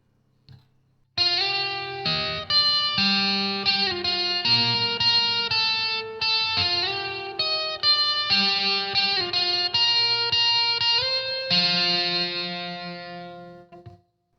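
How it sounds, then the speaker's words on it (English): Overdriven electric guitar through a VOX Amplug 2 Metal with subtle reverb plays a steady run of notes with a light wash of ambience behind them, the final chord ringing out and fading at the end. "So reverb is a really subtle effect, at least depending on how you use it."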